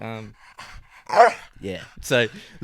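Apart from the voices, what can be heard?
dog panting and barking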